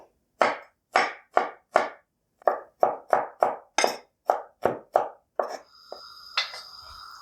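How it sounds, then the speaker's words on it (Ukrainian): A knife finely chops onion or garlic on a board in a quick series of crisp, evenly spaced thuds, with a short pause midway, then a soft scraping clatter at the end. "І так дрібнесенько поріжу."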